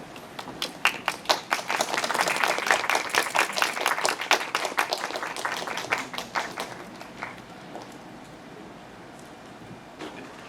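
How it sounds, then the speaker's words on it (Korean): An audience claps to welcome the performers at a live press preview of Frankenstein the Musical, a dense burst of hand claps that builds over the first seconds, stays loud, then thins out to scattered claps near the end. "박수로 환영해 주십시오."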